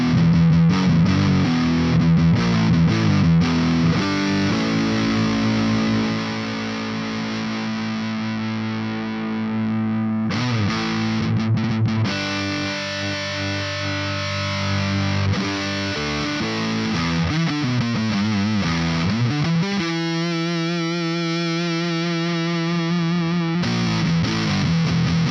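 A Stratocaster electric guitar runs through the Boss SY-1000's Juggernaut amp model, giving heavy distorted chords and sustained notes that give way to choppy, rhythmic riffing near the end, loud and alone with no talking.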